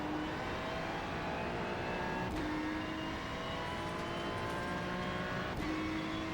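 Ferrari GT3 race car engine in the iRacing sim at Watkins Glen, revving hard in second gear, a loud steady high-pitched roar climbing in pitch, broken by two quick upshift dips, with no talking.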